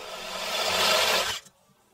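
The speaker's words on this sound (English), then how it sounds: "Then I chiseled out the area for the strike plate to go." A chisel scrapes out a recess in a wooden door for a deadbolt strike plate, one steady rasping stroke that builds and then stops abruptly, close and alone.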